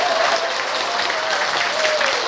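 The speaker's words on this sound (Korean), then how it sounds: "노래하는 비가 무대 위에 올라올 때 팬들이 어떻게 박수를 칩니까?" A lecture audience at a laughter yoga session claps enthusiastically like fans greeting a singer, a dense loud burst of applause with a faint whistle-like tone running through it.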